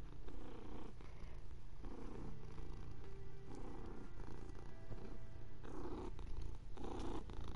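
A pet cat purrs steadily and close up while being petted, a continuous soft rumble pulsing in slow regular cycles of breath, with no talking.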